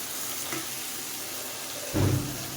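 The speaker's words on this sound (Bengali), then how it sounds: "দিয়ে ভালো করে নাড়াচাড়া করে কষিয়ে নেব" Ginger-garlic paste, about a spoonful, sizzles and fries in a pan while being stirred, with a brief louder scrape and sizzle burst near the end, for a homemade matar ghugni.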